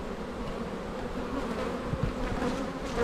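Honey bees swarm around an opened, agitated hive, a dense continuous buzzing hum close up and loud, with no voices.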